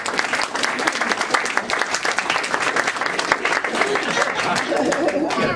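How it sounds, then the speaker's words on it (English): An audience claps as a veteran of the 526th Armored Infantry walks in, brisk dense applause close by at a lively level, with voices talking over it and the clapping thinning near the end. "Start clapping or something."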